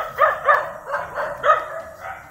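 A dog barks in a steady run of about six sharp barks, near and loud, with no one talking.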